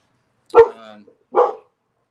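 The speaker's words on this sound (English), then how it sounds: "Geez, dog's barking." A dog barks twice nearby, a sharp first bark with a short trailing whine, then a second bark under a second later, with silence around them.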